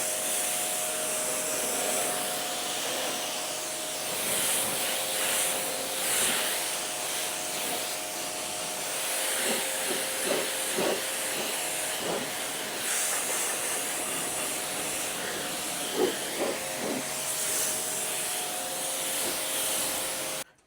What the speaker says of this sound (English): Glenn, you might do a rinse here now